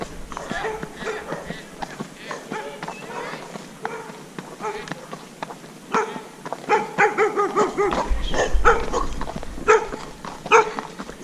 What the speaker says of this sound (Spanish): Los otros ladran y se van, este me persigue.